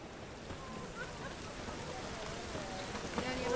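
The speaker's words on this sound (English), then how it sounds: "It only ever rains these days." Rain falls steadily in The Witcher 3 video game, a soft continuous hiss of drops on surfaces at low level, with faint voices murmuring underneath.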